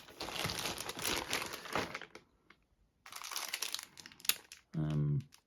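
Crinkling plastic bags holding sprues from a 1:35 scale Tamiya Hummel late production howitzer model kit, handled in two close bursts with a short pause between, then a brief tonal blip at the end.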